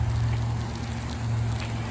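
Heavy rain falls steadily on a Kingsport, Tennessee interstate, a dense continuous hiss with a low rumble of traffic or wind underneath, no voices.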